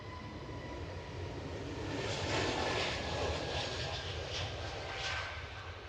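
Jet airliner taking off at Edinburgh Airport, a steady loud roar that swells and holds for several seconds, with broadband engine rumble and rushing noise close by.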